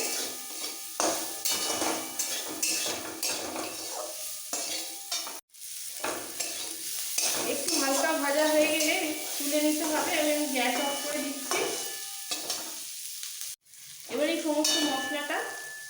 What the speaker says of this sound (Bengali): এবার এই পেঁয়াজ আদা আর রসুন একটু সটে করে নিতে হবে